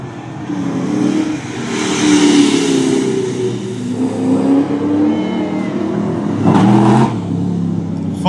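A loud HSV VY Maloo ute engine roars and revs as it drives past close by in a tarmac rally, pitch rising and falling, with a final surge of acceleration.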